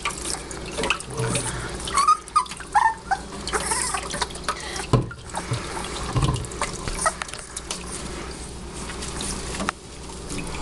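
Water runs from a tap for a small brown dog's bath, a continuous splashing wash with scattered knocks and drips, fairly close and steady throughout.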